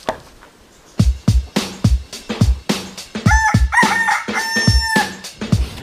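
A rooster crows loudly and close, its drawn-out calls rising over a run of sharp, rhythmic thumps and clucking, with no talk present.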